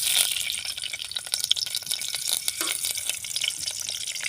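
Onion fries in oil in a pan over a clay stove, giving a close, steady crackling sizzle with sharp spitting pops and no talking.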